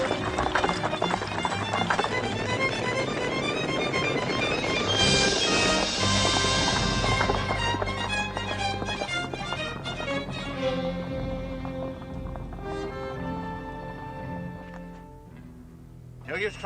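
Horses' hooves, including pack horses, clip-clop at a running pace amid busy dramatic orchestral music in a Western film, loud at first and gradually thinning out toward the end.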